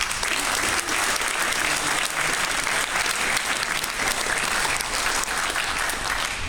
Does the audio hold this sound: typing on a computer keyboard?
no